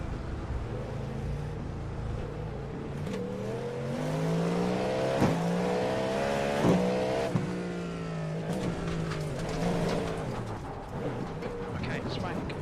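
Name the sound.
Ferrari race car engine in iRacing video game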